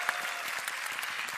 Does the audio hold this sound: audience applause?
yes